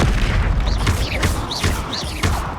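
Incendio fire spell cast in Hogwarts Legacy, a series of loud booming bursts and whooshing blasts in quick succession over dense combat noise.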